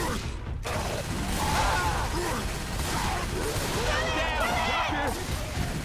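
Rapid gunfire in Left 4 Dead 2 during a tournament match, sustained loud bursts and clatter running throughout, with players' voices talking over the shooting.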